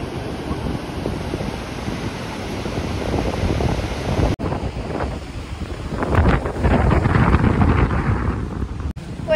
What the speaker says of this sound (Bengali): এত প্রচুর হাওয়া